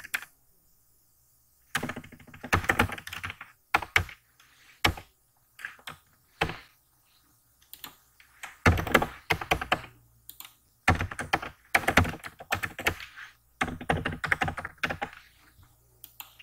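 Typing on a computer keyboard comes in irregular bursts of quick, close key clicks separated by short pauses, with occasional heavier taps, and no talking.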